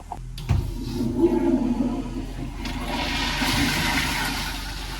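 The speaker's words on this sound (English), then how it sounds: "We will take a couple of flushes, I think, because this is coming all the way back now." A toilet flushing at the end of a water line being tested after winterizing: a sudden rush of water starts about half a second in and keeps running and gurgling steadily, fairly close, with no talk.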